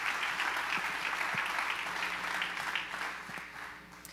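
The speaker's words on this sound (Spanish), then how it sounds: "Démosle un fuerte aplauso al Señor por Jenny" A church congregation gives a strong round of applause during a sermon, a thick burst of clapping that starts full and gradually thins and fades toward the end.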